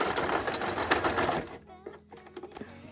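A sewing machine runs a back stitch on the waistband of a pair of pajama shorts, with a fast, close whirring for about a second and a half, then stopping to quieter clicks and handling noises.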